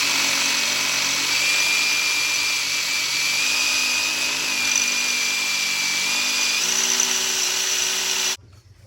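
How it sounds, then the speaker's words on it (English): A power drill bores a hole through metal parts during a build, whining loud and steady at close range for about eight seconds before cutting off abruptly. "We have our first hole partially drilled."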